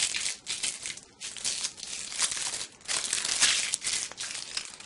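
Scraps of gunmetal and brushed-metal foil heat transfer vinyl are crumpled by hand, giving a close, continuous crinkling and crackling that swells and fades in waves.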